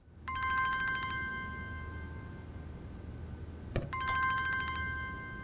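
A mobile phone ringtone plays in a TV drama scene, a bright repeating electronic melody that rings loudly, breaks off briefly and then starts again, with no talking over it.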